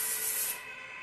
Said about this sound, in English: I'm just going in there and I'm just really spraying it through as well